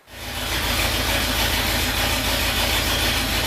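A 1973 IH Loadstar Blue Bird bus engine cranks and catches, then settles into a loud, steady low rumble as it idles.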